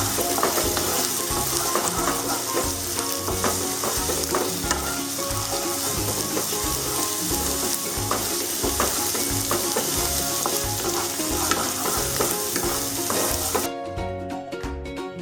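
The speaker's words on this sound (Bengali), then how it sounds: "পেঁয়াজটা কিন্তু আমরা একদম বাদামি করে ভাজবো" Onions fry until brown on a medium flame for Golbari-style mutton kasha, a dense, loud, steady sizzle with constant stirring scrapes, close up and uninterrupted, dropping off abruptly near the end.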